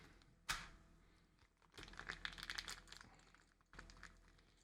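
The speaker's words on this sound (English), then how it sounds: "So these are more angled and textured. These keycaps." Corsair K95 RGB Platinum XT keyboard keycaps being pulled and pressed into place, sharp plastic clicks and clatters in quick clusters, close and quiet with no talking.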